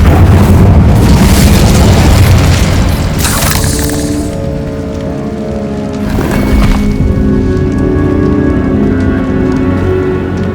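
An Incendio fire spell in Hogwarts Legacy erupts as a loud, sustained roaring blast, swelling and crackling with fiery bursts over several seconds and holding dense and close throughout.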